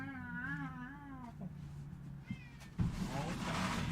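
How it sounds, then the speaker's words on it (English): A house cat meows repeatedly in drawn-out, wavering cries, fairly close, followed by a sharp clunk and a burst of broadband rustle. "He was meowing the whole time. I heard a big meow."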